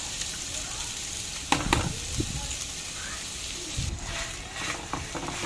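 Minced pork frying in a pan with a steady background sizzle, broken by a few scraping stirs of a spatula near the start and end, with no talking.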